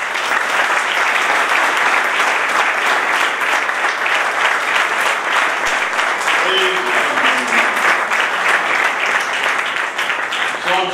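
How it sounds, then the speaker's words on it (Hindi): A church congregation applauding loudly during a sermon, a sustained, energetic wash of clapping filling the room from start to end, with a voice briefly heard partway through. "मैं यीशु के लिए जोरदार ताली।"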